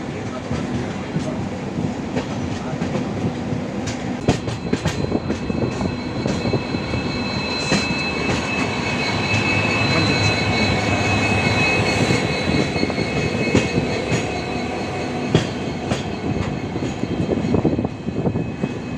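A Vistadome train on the Yesvanthpur to Mangalore route runs steadily on its rails, a continuous loud rumble with rhythmic clacks of wheels over rail joints throughout.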